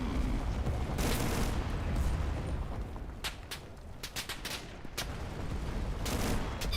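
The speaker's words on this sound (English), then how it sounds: "Who is shooting me?" Gunfire rings out in the World War II shooter Enlisted: a dense fusillade of rifle and machine-gun shots, some sharp and near and others more distant, cracking irregularly over a continuous rumbling battlefield din.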